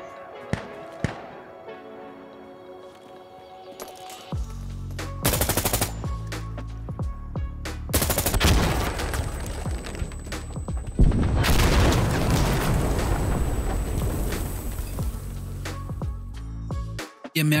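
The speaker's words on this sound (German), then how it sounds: "Waffen in Sandstorm herumzuballern und Gegner aufs Korn zu nehmen" Gunfire and explosions in the tactical shooter Insurgency Sandstorm: sparse single shots at first, then loud bursts of automatic fire and booming blasts that come in dense, overlapping waves, close and heavy, for most of the stretch.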